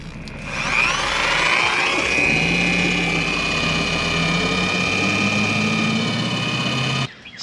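A power drill whirs up and runs steadily, driving a pump while dewinterizing a stern-drive boat, with a loud, constant motor whine for several seconds before cutting off.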